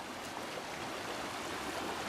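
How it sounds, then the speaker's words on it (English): Waterfall runoff rushes past as a steady stream, a continuous broad wash of flowing water with no breaks or voices, moderately loud and close. "This is the runoff from the waterfall."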